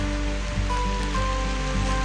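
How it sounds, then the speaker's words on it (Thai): Rain falls steadily during a solo motorcycle road trip in the mountains, a dense, continuous wash of noise with a low rumble underneath and no speech. "ฝนตก ฝนตกอีกแล้วฝนตกขากลับด้วย"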